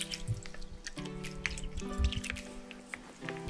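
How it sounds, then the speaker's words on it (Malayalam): Milk is poured into a mixer grinder jar for a jackfruit seed shake, giving soft, close dribbling and splashing with small liquid plops and faint ringing from the jar. "ഇപ്പോൾ കുറച്ച് പാൽ ആദ്യം ഒഴിച്ച് നമ്മളൊന്ന് അരച്ചെടുക്കുന്നുണ്ട്."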